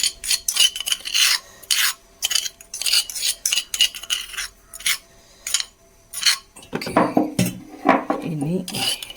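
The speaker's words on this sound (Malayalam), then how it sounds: "ചുവന്നുള്ളിയും ജീരകം ഇതൊന്ന് ചതച്ചെടുക്കട്ടെ" Shallots and cumin seeds are crushed close by in a kitchen. Repeated rasping, grinding strokes come in short rhythmic bursts separated by brief pauses, with a few scraping clinks near the end.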